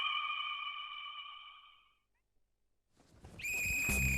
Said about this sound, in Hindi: आग लगे इस मनहूस की सिटी को